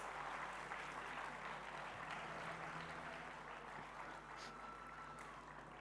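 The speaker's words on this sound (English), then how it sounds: "I request all of you to kindly give a big round of applause to welcome our guests." An audience applauds to welcome guests at a youth consultation inauguration at NIMHANS in Bengaluru, a sustained, even burst of many hands clapping in a hall, fairly distant and gently tapering near the end.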